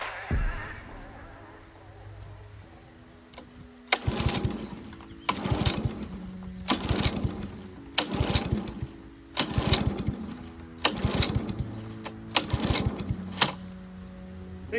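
A radio-controlled car engine is cranked with its starter on full choke, giving six separate loud buzzing bursts of a few seconds each, broken by short pauses of low engine hum, with no catch or sustained running.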